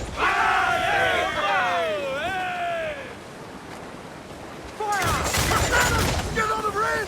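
Ship cannons in Assassin's Creed IV: Black Flag let loose a loud, rolling broadside barrage partway through, amid the crew's shouted voices and the rush of sea and wind.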